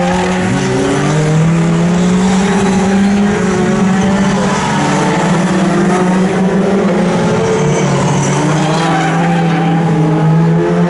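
Pickup trucks race at Snetterton circuit, a pack of engines droning loudly and continuously with rising and falling pitch as they pass, tyres squealing and skidding throughout, no voices.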